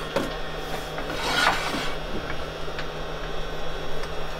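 Steady abrasive rasping of sandpaper held by hand against wood spinning on a lathe, continuous and close, with a brief louder scrub partway through.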